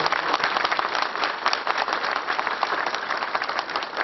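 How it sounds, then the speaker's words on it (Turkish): Audience applause at the opening of a law office by a former Tokat mayor, a continuous crowd of clapping hands at moderate loudness with a dense, even texture. "Eyüp Bey'i bir alkışa davet ediyorum."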